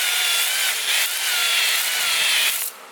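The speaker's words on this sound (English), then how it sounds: "Basically we're just honing this really quick." An engine cylinder wall is honed with a power tool, producing a loud, steady, close abrasive whirring that runs for a few seconds before cutting off.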